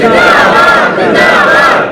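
A large crowd chants a religious slogan in unison at a gathering, loud, rhythmic rising and falling voices repeating the phrase close and energetic.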